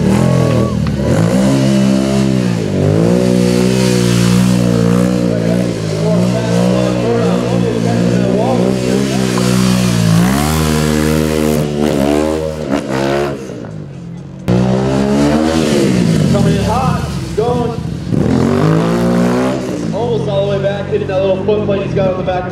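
A stunt motorcycle engine revs repeatedly at a competition, its pitch climbing and falling in waves as the throttle is worked, loud and close, with commentators talking over it throughout.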